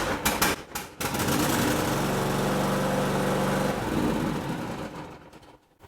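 A Cub Cadet lawn tractor's small engine starts with a cold engine and choke pulled, catching after a few uneven bursts and then running at a steady loud drone before winding down.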